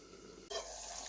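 Water from boiled potatoes being drained, a sudden steady rush of pouring liquid that starts halfway through and continues loudly to the end, close by, with no voices.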